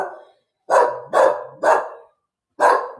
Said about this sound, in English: another dog is barking